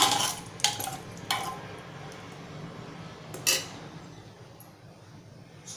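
A spoon clinks and scrapes against a metal pot while a white pea and potato curry is stirred, giving a few sharp knocks early on and then a quieter, steadier scraping close by.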